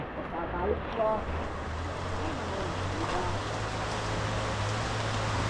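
Strong water rushes steadily through a rice paddy with a broad, noisy roar and a low engine-like hum underneath, with a brief voice near the start.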